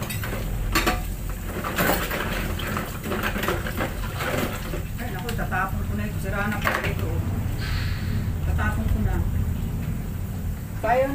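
Plates being set aside in a kitchen, with repeated clinks and clatters of dishes against one another at close range over a steady background hum.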